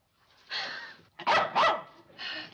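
A dog barks in a rural courtroom scene from a 1960s sitcom, giving about four loud, close barks in an uneven run, with no talk over them.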